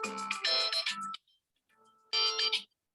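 A mobile phone ringtone plays a melodic burst for about a second, falls silent, then sounds again briefly; the ringing is clear and close, with no talking over it.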